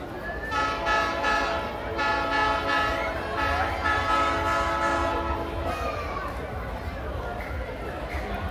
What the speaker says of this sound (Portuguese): A buzina do Papai Noel.